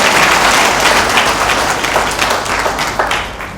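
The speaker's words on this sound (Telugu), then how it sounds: "ఒక్కసారి అలాంటి మహాకవులకు ఒకసారి చప్పట్లు కొట్టండి" A large audience at a religious Shiva Purana discourse breaks into sustained, loud applause, a dense wash of many clapping hands that holds steady and tapers slightly toward the end.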